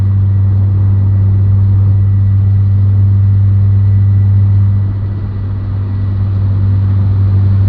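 An Acura RSX with an HKS Hi-Power exhaust cruises on the highway at 80 mph and 3,000 RPM, giving a steady loud low drone that dips slightly near the end, with no talking.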